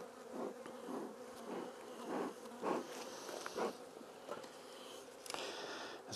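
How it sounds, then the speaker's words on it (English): Honey bees buzz over frames pulled from a hive, a dense droning hum with repeated swelling bursts as bees pass close, fairly faint and steady throughout without any talking. "It seems like just a frame of bees."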